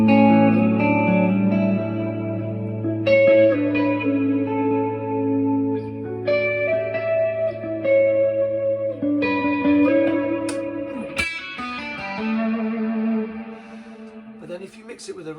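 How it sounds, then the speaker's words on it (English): Electric guitar with a slight chorus and a modern-sounding reverb, played alone as sustained ringing chords and single notes that shift every few seconds, with a brief scrape near the end and a tail fading into space. "there's a slight bit of chorus, and it sounds quite, just a modern kind of sounding reverb"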